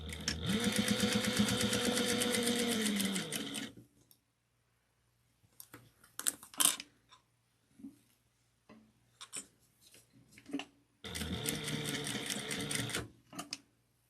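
A sewing machine stitches a half-inch seam with backstitching on a wristlet, running in a fast steady whir for a few seconds, then pausing amid small clicks and fabric handling before a second burst of stitching.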